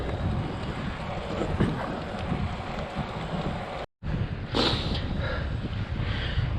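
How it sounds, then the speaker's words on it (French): Strong wind buffets the microphone in a constant roar, with a short dropout midway and gusty bursts afterward. "je suis contre le vent"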